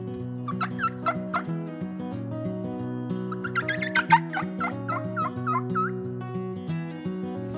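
Mouth diaphragm turkey call with assorted reeds imitating several different turkeys, a busy run of yelps, clucks and gobble-like notes rising and falling close up, with no talking.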